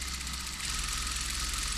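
A sewing machine runs continuously and evenly while stitching salwar seams, giving a close, steady motor hum with a fine rapid rhythm and no talking.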